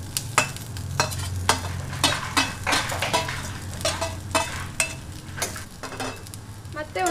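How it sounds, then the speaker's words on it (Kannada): Fried bitter gourd being stirred and mixed in a pan of sizzling masala: repeated sharp scraping clinks of a spoon against the pan in an irregular rhythm over a soft, continuous frying hiss. "ಒಂದ್ಸಲ ಇದನ್ನ ಮಿಕ್ಸಪ್ ಮಾಡ್ತಾ ಇದ್ದೀನಿ ಎಲ್ಲದನ್ನು"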